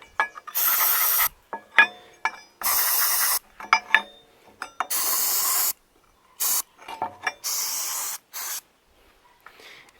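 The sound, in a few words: spraying Rust Check Red undercoating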